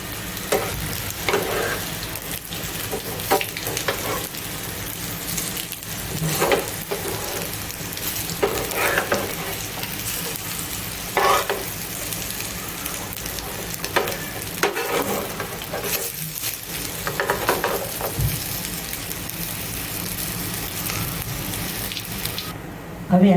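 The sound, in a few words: taro (arvi) leaf snack frying in oil in a pan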